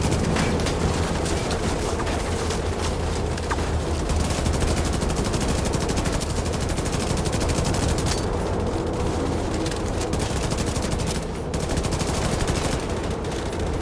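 Automatic weapon fire in The Division 2, a dense, relentless rattle of rapid gunshots with bursts layered over one another, loud and continuous throughout.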